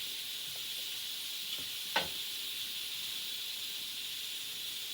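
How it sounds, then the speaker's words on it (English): Scallops fry in butter in a pan, giving a steady, even sizzling hiss with one sharp click midway and no talking. "While this is frying up here"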